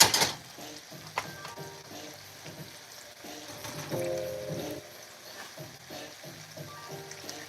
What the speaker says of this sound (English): I'm gonna put this extra burger in this frying pan over here